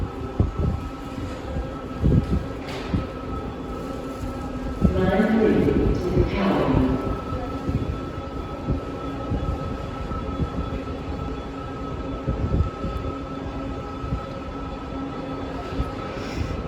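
A Toronto TTC Scarborough RT train rumbles and clatters through Kennedy station, its steady hum rising briefly as it passes, while people chat nearby.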